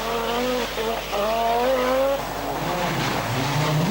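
A 1985 Audi Quattro rally car passing during racing, its engine note sweeping through rising and falling revs across gear changes, loud and fairly close against a noisy background.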